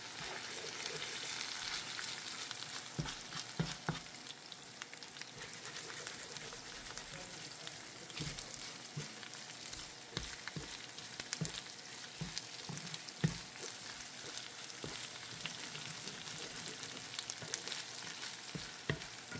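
Chorizo and potatoes fry softly in a pan, a low, steady sizzle with scattered small pops and crackles, fairly faint throughout and without speech.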